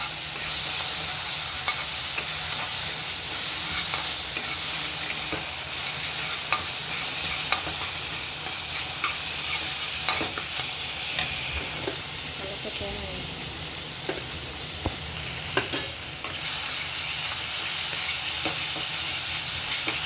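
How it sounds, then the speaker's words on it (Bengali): Cumin, turmeric and other ground spices sizzle and crackle steadily in a hot pan, with occasional scraping clicks as they are stirred, close up and continuous. "মশলাটা ভাজা হবে"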